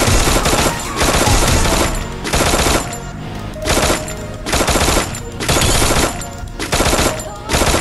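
Gunfire in a shooting video game, heard as loud repeated bursts of rapid automatic fire, about eight separated by short gaps, in an even rhythm.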